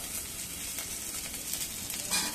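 Green chillies frying in a pan for a fasting potato dish, a steady soft sizzle that runs throughout and swells a little near the end.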